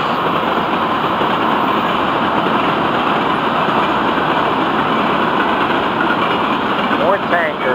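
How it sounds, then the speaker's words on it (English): A long freight train of coal cars and tank cars rolls past close by, a loud, continuous rumble and clatter of wheels on rails that holds steady throughout, with brief squeals near the end. "Oh, what a beautiful train."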